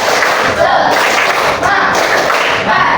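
A classroom of students does a rhythmic spirit clap, a loud, dense burst of many hands clapping together in repeated pulses, close and filling the room with little speech.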